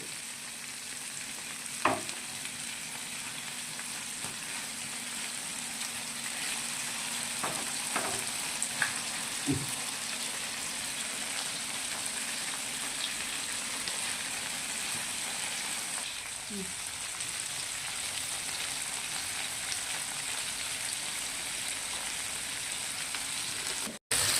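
Chicken with mandi ingredients fries on a tava in a steady, close sizzle that runs throughout, with a few sharp clicks and pops of stirring along the way.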